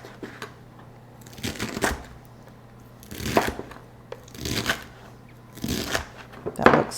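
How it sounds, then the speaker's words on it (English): A knife dices crisp celery on a board in a home kitchen, giving close, crunchy chopping in short bursts with brief pauses between them. "So just dice up your celery."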